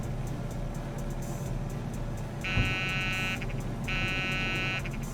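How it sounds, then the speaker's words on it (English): Landing gear warning buzzer in a Beech 18 in Microsoft Flight Simulator 2020 sounds in two steady bursts of about a second each, over constant engine drone in the cockpit. "It's the buzzer telling me I need to lower my gear."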